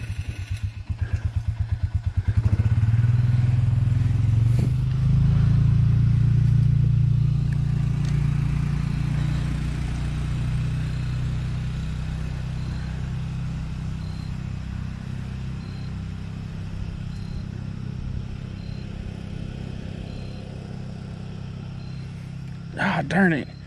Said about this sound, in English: That ATV you're hearing is, I guess, the landowner here.